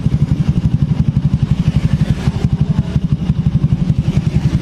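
A Honda Beat 2019 scooter engine, kick-started, runs loud and close with a steady fast putter at idle, its rhythmic pulses even throughout.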